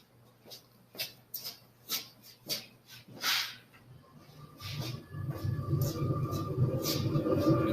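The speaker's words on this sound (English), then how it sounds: "So just one thing I'm going to do is turn the fan on." A foundry welding-hood exhaust fan switches on partway through, rising into a steady broadband roar with a low hum that holds to the end, after earlier scattered knocks and clatter in the room.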